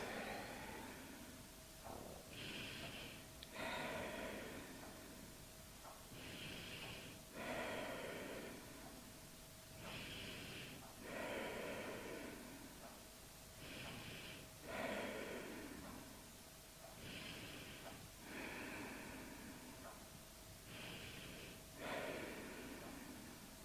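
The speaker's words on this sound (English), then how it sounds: "Take deep breaths." Deep, slow breathing during a seated yoga twist, a steady series of audible inhales and exhales repeating roughly every few seconds, close and fairly soft, with no talking over it.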